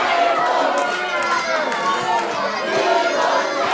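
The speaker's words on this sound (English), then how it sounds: "Listen to this crowd, Kurt." A loud, dense crowd at a pro wrestling TLC match roars and shouts continuously, with overlapping voices and cheering filling the hall at a steady high level throughout.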